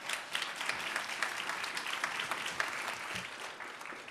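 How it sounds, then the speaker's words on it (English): Steady applause from an audience at a United We Walk celebration fills the room for several seconds, even clapping from many hands at moderate distance, with no voices over it. "Let's give them a round of applause."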